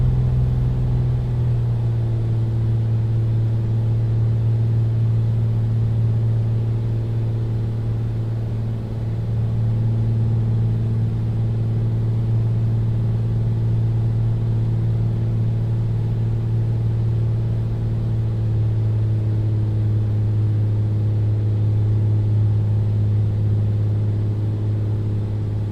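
Turbocharged Beechcraft A36 Bonanza piston engine in a flight simulator, running steadily close to full throttle: a loud, continuous droning hum with a strong low tone and no break, with nobody talking over it.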